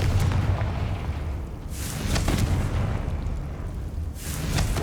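Confringo fire spell blasts in Hogwarts Legacy, two or three deep booming explosions with rumbling tails, loud and close, rising and fading in bursts without any talk.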